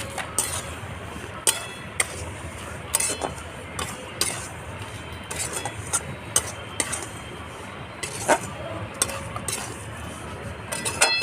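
Semolina frying in ghee for suji barfi, marked by repeated sharp metallic clinks and scrapes of a spoon stirring against the pan over a soft, low frying hiss, close by and steady throughout.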